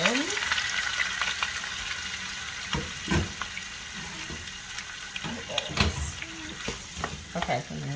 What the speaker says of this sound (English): then we're just gonna start cooking the shrimp